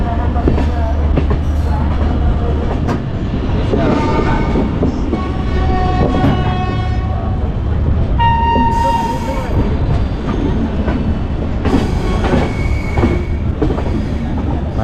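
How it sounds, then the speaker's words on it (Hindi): Train 12330 West Bengal Sampark Kranti Express pulls into platform 2 at Gaya Junction railway station, a loud continuous rumble of wheels and carriages with high squealing brakes and metallic screeches throughout. "हमारी ट्रेन का जो अराइवल है वो गया जंक्शन रेलवे स्टेशन पे हो चुका है"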